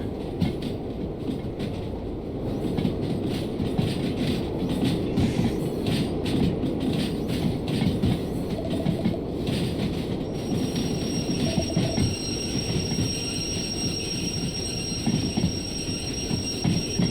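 Freight cars shunted by a locomotive with a slug rumble and clatter along the rails in a continuous heavy roll, with wheel squeals and rattling couplings throughout, no voices.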